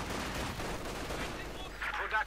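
MG42 machine gun fire from a 1v1 Company of Heroes 2 match comes as a quick, fairly faint rattling burst lasting a couple of seconds, mixed with a voice talking.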